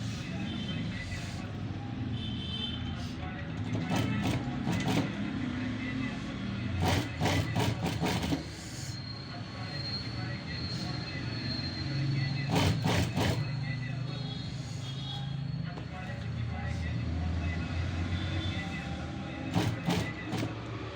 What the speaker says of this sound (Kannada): ಸ್ವಲ್ಪ ದೂರ ಸ್ಟಿಚ್ ಹಾಕ್ಕೊಂಡಿದ್ದೀನಿ